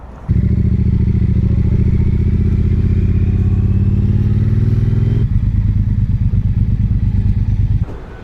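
A Triumph Bobber motorcycle on a brand new front tyre rumbles loudly and steadily while being ridden, its engine note rising gradually before a gear change shifts the tone near the end.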